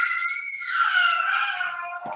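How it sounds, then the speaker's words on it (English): A child screams downstairs in a house, one long, high, wavering wail that fades toward the end, heard through the room without talking. "That's my son screaming."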